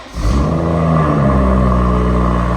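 BMW M140i fitted with a straight-pipe Scorpion exhaust starts up loud and close, then settles into a deep, steady, rumbling idle with a raspy edge.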